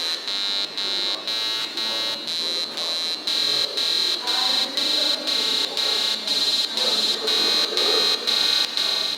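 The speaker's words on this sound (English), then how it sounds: "every opening of a door means that you have this beep sound, a little MIDI sound" A short electronic MIDI beep tone, triggered by a door opening in an exhibition, repeats in a steady pulse, roughly twice a second, with a faint hum and murmur underneath.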